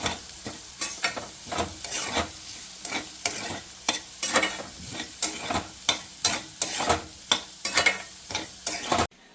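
Duck pieces frying in a pan with chili powder being stirred in, a spoon scraping in a steady rhythm of about a dozen sharp strokes over a continuous sizzle, close and alone with no talk.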